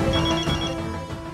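A telephone rings steadily in a domestic drama scene, a sustained ringing tone filling the short moment at moderate loudness with no voices over it.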